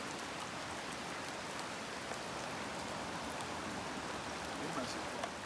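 Steady rain falls on and around the Nantahala River during a fishing trip, a dense, even hiss that holds at the same level throughout without pause, with no talk heard over it.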